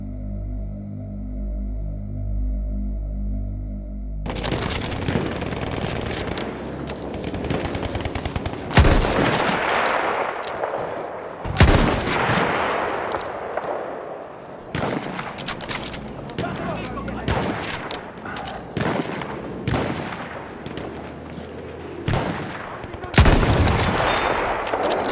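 A Gewehr 98 sniper rifle fires in Battlefield 1 amid ongoing battle. After a brief musical intro, sharp, loud rifle cracks ring out at irregular intervals over a steady bed of distant gunfire and battlefield din.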